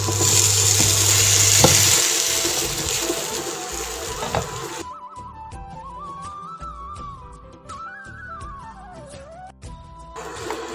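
Aviyal vegetables stirred in a pan, with a loud scraping, sizzling stretch at first, then quieter wet stirring and clinks under a faint background tone.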